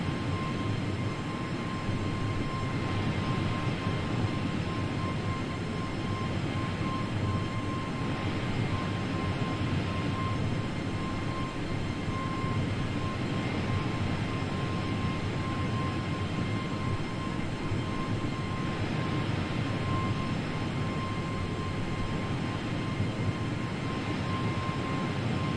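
The engines of an airliner climbing in Microsoft Flight Simulator give a steady, even cabin drone with a faint constant tone over it, unbroken and moderately loud for the whole stretch.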